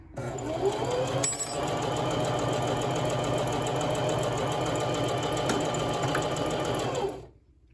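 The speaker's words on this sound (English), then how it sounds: "So I literally just run it right down the center of the presser foot there." A sewing machine runs a zigzag stitch steadily along a seam for about seven seconds, a close, even mechanical whirr with rapid needle clatter that stops at the end.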